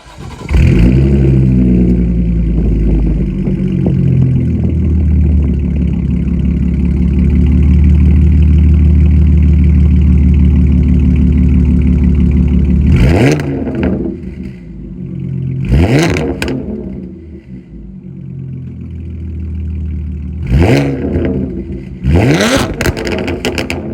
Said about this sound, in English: a full custom AWE exhaust. And I'll give you guys a sound clip of that right now.